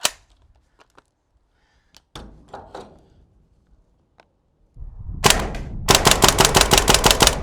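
A gas-powered airsoft gun fires a few scattered single shots and clanks, then a fast full-auto burst of sharp cracks near the end, close and loud.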